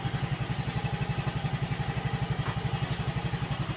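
A motorcycle engine idles close by during a check-engine reset, a quiet, even, rapid putter that holds steady throughout.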